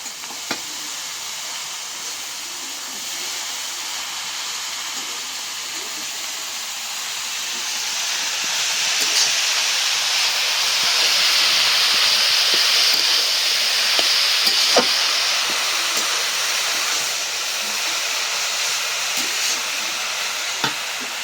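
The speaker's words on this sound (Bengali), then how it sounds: "ভাজা হয়ে গেল সরিষা শাক" Mustard greens fry in a pan with a steady, moderately loud hiss and sizzle that swells slightly midway and continues for about twenty seconds, with occasional faint clicks of stirring.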